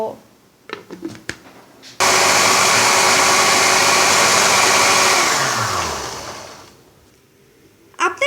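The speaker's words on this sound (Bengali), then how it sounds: "এবার ঢাকনা দিয়ে ঢেকে ব্লেন্ডার মেশিনে ব্লেন্ড করে নিব" An electric blender whirs loudly for several seconds, blending lassi with ice cubes and water, then winds down and falls silent. Light clicks and handling noises come before and after.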